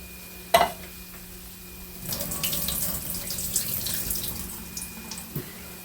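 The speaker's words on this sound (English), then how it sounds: "I'm going to drain them" Canned green beans are drained in a kitchen sink. A sharp knock comes first, then liquid pours and splashes steadily for a few seconds before tapering off, with a small clunk near the end.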